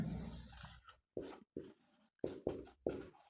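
Pen strokes scratching across paper, in several short separate bursts with brief pauses between them, close and fairly quiet, with no talking.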